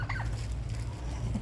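Native chickens on a small backyard farm cluck softly for a brief moment under a steady low background hum.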